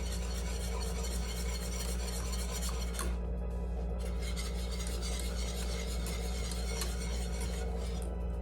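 Sugar solution for rock candy is stirred steadily in a pan, a continuous close scraping and rubbing with short pauses, over a constant low background hum.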